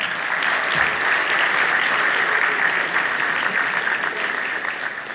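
Sustained applause for graduates from a large audience at a graduation speech, steady and loud throughout, with dense overlapping claps and no voices standing out.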